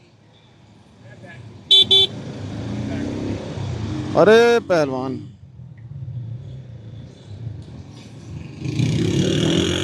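Busy Lahore street traffic with a steady rumble of cars and motorbikes, a short car horn toot, then a longer wavering horn blast a few seconds later, while someone talks over the noise.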